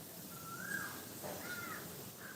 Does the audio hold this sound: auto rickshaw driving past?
no